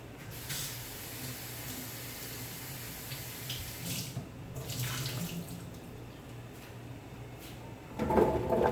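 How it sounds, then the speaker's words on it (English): Green plantains are rinsed in a kitchen sink under a running tap, producing a steady close hiss of flowing water with shifting splashes as the fruit is handled and a louder clatter at the end. "Gonna rinse this off."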